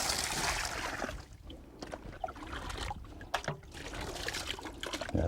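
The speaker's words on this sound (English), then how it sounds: "just take a gold pan and Rinse it out" Water sloshes and splashes as gravel is rinsed out of a gold pan outdoors, with an irregular swirling wash and occasional louder splashes close by.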